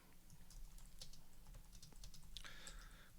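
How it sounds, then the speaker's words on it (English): Typing on a computer keyboard, a quiet, continuous patter of key clicks at a steady pace over a low background hum, with a brief brighter tone near the end. "So we can type whatever text we want in here."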